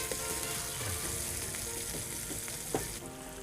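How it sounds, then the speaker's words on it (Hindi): Onions frying in oil in a pan while making chicken macaroni, a steady broadband sizzle with occasional stirring scrapes, close and continuous with no talk. "इसको थोड़ा फ्राई करते हैं।"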